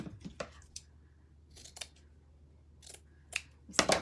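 Scissors snipping ribbon for a bow, a handful of sharp, close individual cuts spaced irregularly over a quiet background, ending in a louder cluster of snips, with no one speaking.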